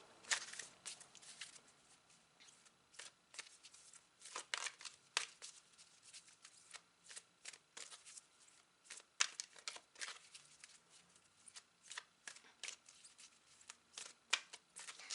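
Oracle cards being shuffled by hand during a tarot reading, a quiet close series of soft papery riffles and flicks in irregular bursts, with no talk over them.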